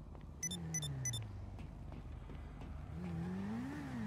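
A motor vehicle engine in a role-play video game drones and revs with shifting pitch, rising again near the end, with a few short electronic beeps early on.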